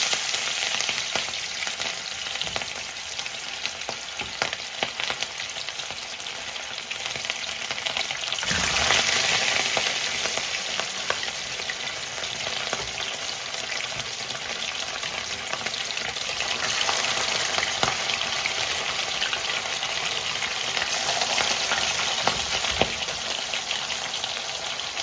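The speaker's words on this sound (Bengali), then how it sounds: "চলো এবার মাছগুলো আস্তে আস্তে ভাজতে পারি" Fish sizzle steadily as they fry in a pan during a family lunch preparation, a continuous close crackling hiss that swells now and then, with occasional sharp spatters and no talk.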